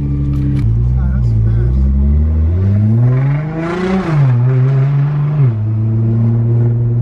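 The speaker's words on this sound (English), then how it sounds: "full valvetronic exhaust" A Nissan GT-R engine idles with its valved exhaust open, then revs upward in a throaty rise and falls back to a deep, loud rumble, all close by.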